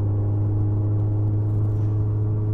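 A car nicknamed Titine, repaired after a cylinder-head failure, drives along with a steady low engine drone and road rumble heard from inside, with no speech.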